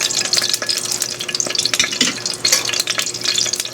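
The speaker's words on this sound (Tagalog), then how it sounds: "Careful po pag nagpiprito kasi tumatalsik yung mantika." Hot oil sizzles and crackles in a pan while frying eggplant, with rapid popping spatters throughout, close and fairly loud.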